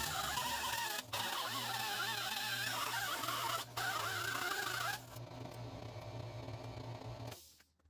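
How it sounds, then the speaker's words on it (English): Paint is stripped off the rusty metal of a 1969 Ford Econoline with a power tool: a continuous abrasive, buzzing whir that shifts in tone partway through and then stops near the end, with no talking. "I'm stripping this paint to see where the good metal is, and that way I can cut above the rust."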